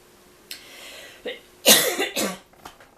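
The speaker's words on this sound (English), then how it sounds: "I wasn't coughing like this before I got on camera." Several hoarse coughs close up, starting with short scattered ones and building to a harsh, chesty burst before a final small cough.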